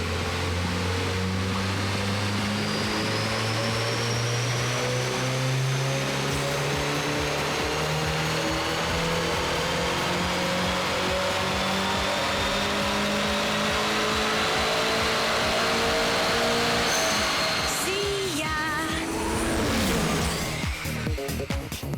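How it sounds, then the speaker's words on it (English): Turbocharged import car strapped to a four-wheel drive dynamometer, its engine revving steadily upward in a long loud sweep of rising pitch, then dropping off near the end with spinning rollers and blow-off noise. "They're going to strap it to this four-wheel drive dynamometer."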